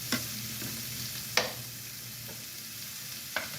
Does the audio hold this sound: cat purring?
no